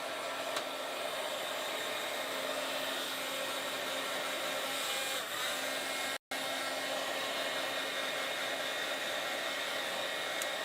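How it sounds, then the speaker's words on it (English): A heat gun melting embossing powder blows a steady, loud hiss close by, like a hair dryer, running continuously with a single split-second break and no talking. "Hopefully you guys can still hear me over the heat gun."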